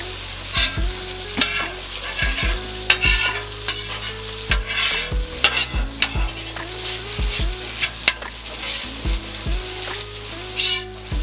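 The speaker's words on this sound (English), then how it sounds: "Put a little bit of butter on the grill." Butter sizzles on a flat steel grill ahead of eggs and smoked sausage, a steady loud fry broken by frequent sharp metallic scrapes and taps of a spatula on the griddle.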